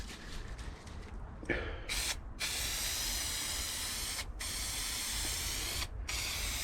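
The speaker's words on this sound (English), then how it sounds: "spray the rest of the panel, well ventilated" Steady hissing spray of aerosol carpet adhesive onto a plywood panel in a camper van, close and continuous, broken by a few brief pauses where the nozzle is released.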